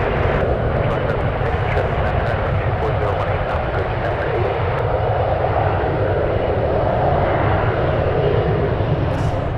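Embraer E175 jet taking off at San Francisco, a steady, fairly distant engine roar holding constant throughout under a voice talking.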